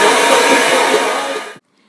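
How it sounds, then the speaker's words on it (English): A Revlon blow dryer runs close and loud, drying wet products on a wig cap with a steady whooshing roar that cuts off abruptly near the end. "Now I'm going to use my Revlon blow dryer to dry up what I've just applied to my cap."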